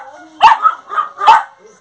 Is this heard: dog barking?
yes